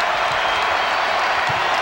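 Basketball fans cheer and applaud at the Kohl Center during a men's college game, Wisconsin hosting Rutgers. A dense, steady roar of crowd noise fills the arena throughout, with no clear voice standing out.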